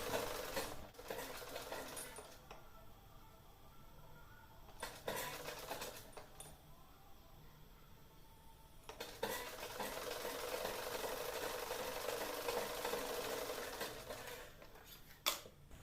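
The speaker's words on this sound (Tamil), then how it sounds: "இப்போ மறுபடியும் இந்த எட்ஜிலேருந்து நான் தைக்க ஸ்டார்ட் பண்ணுறேன்" A sewing machine stitches fabric for a neckline pattern in short bursts, its needle whirring in close runs broken by brief pauses and small handling clicks, with no voices.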